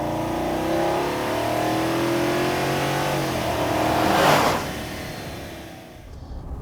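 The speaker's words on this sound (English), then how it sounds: "This has a real V8 induction snarl" The V8 engine of a 2021 Chevrolet Silverado 1500 LTZ pickup revs up with a rising, throaty intake snarl, peaks in a loud burst, then eases off as the sound fades.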